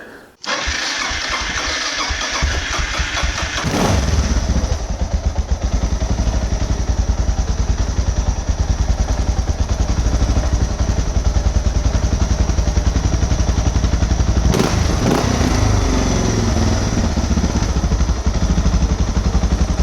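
Suzuki DR650 motorcycle engine starting after a brief crank, then running at a loud, steady idle close by for the rest of the time, with faint clatter and a slight shift in tone as the idle is adjusted.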